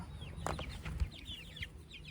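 Young chicks, including layer and Orpington chicks, peep and cheep softly in a coop alongside a rooster's low clucking, faint and scattered over a quiet background.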